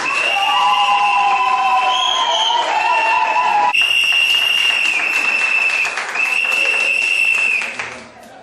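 Wedding guests break into loud, sustained applause with cheering, while bright musical tones ring over the clapping throughout before the sound drops away at the end.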